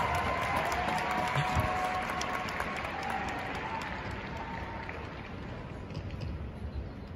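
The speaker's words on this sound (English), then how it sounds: "give the biggest round of applause to all our leaders in the crowd" Sustained applause from a large crowd, loud and dense throughout, slowly easing off a little toward the end.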